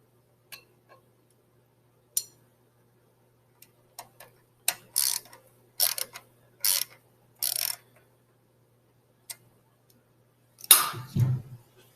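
An engine part is being tightened back down during assembly in a quiet room, with sparse mechanical ticks followed by short bursts of ratcheting clicks and a heavier clunk near the end.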